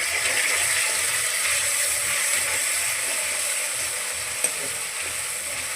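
Green chillies frying in a pan after onions, a steady broadband hiss of hot oil with a soft periodic rattle beneath and one brief clink, close and even throughout.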